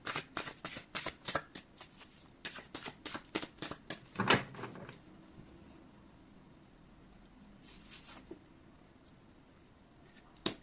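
Tarot cards are shuffled in a rapid riffling flutter of crisp paper snaps, then a single card is drawn and laid down with a soft slide, with quiet handling noises continuing afterward.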